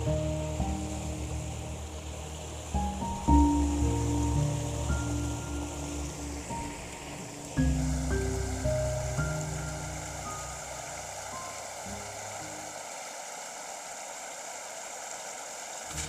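The Tinampak river flows in the countryside as a steady, broad rush of water, mixed with a low droning hum and shifting tones like a passing engine, easing to a quieter water hiss near the end.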